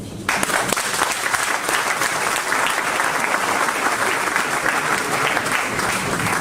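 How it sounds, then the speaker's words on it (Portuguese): Steady, dense applause from a large audience at a talk or debate event, loud and sustained throughout with no pauses. "Uma salva de palmas."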